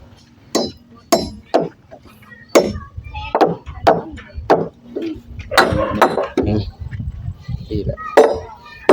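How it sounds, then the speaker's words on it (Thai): Nails are driven in with a hammer at a house build, about a dozen sharp, ringing strikes in an uneven rhythm, close by, with voices talking faintly between blows. "ตอกให้มันเข้าอีกนิดนึงพอ"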